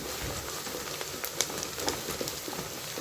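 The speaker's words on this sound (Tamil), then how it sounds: "இப்போ பாருங்கள் வெங்காயம் நல்லா வதங்கிட்டுருக்கு" Onions sauté in a pan for a Tamil chicken podi kuzhambu, giving a soft, continuous crackling sizzle with scattered pops, close by and alone.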